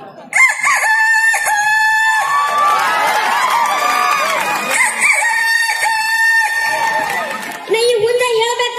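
A man imitates a rooster crowing with his voice, a long rising-and-falling cock-a-doodle-doo done twice at a lively comedy show, with crowd noise behind him.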